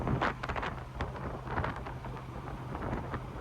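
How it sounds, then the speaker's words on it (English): Steady broadband wind roars and buffets through a Chevrolet Camaro SS convertible with the top down while it drives on a summer day, a low engine hum running beneath the continuous rushing noise. "A lot of wind coming through"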